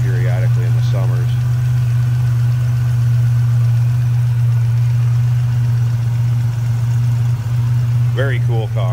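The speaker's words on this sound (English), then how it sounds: "There's that GNX engine." A 1987 Buick Grand National GNX V6 engine idles with a steady, loud low rumble throughout, while brief bursts of talk come at the start and end.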